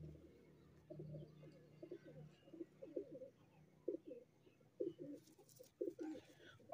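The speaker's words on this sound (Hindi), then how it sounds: "ये मुकम्मल जी कबूतर है" Soft, low pigeon coos repeat in rhythmic phrases, close by, with faint background noise between the calls.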